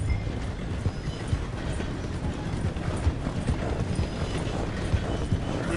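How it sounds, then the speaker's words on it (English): Train in the Red Dead video game rolling slowly through a station, with steady low rumbling and rhythmic wheel clatter heard continuously at moderate loudness, no voices. "The train is slowing down to go through the station."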